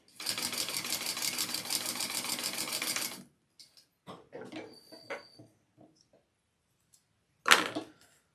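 A sewing machine runs steadily for about three seconds, top stitching a folded D-ring connector on a bag, followed by a few scattered handling clicks and a sharp knock near the end.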